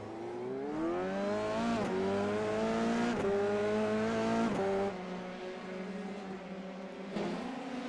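A Formula-style race car in a racing game spins donuts in the dirt at Sonoma: a loud engine whines up and down in repeated revving sweeps, each cut by a brief drop, sustained for several seconds.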